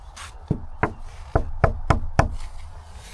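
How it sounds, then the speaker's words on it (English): Six sharp knocks on wood inside an old church, loud and close with uneven gaps between them. The hollow raps ring briefly in the quiet room. "we're going to knock on the wood"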